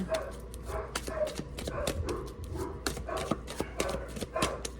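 Several dogs bark repeatedly in the distance, sharp yips and barks scattered irregularly over a steady low background hum, with no one speaking.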